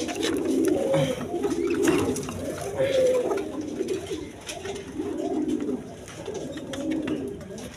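A pair of gorra pigeons coo in repeated soft, throaty phrases at close range, each rolling call a second or so long, with someone talking faintly in the background.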